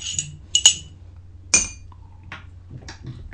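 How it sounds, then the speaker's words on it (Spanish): A ceramic cup clinks a few times as coffee is sipped, with bright, sharp taps close by and soft mouth sounds between them, over a low steady hum and no talking. "ahora me voy a dar el segundo sorbito del día"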